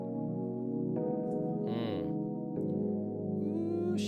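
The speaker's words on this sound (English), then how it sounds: "So I have this main electric piano that's just going to be like my pad to kind of carry the song." Electric piano pad playing sustained, layered chords that shift every second or so, soft and alone with a smooth held tone.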